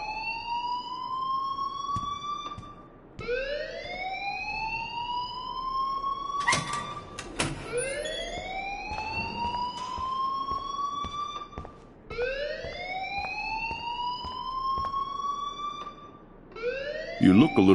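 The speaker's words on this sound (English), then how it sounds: "please turn off that alarm" A video-game alarm wails in repeated rising siren sweeps, each climbing and holding for a few seconds before restarting, loud and continuous with brief clatter and voices between cycles.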